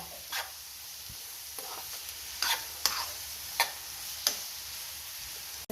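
Onions and curry leaves fry in a pan, giving a quiet, steady sizzle with a few scattered stirring scrapes and taps over the hiss.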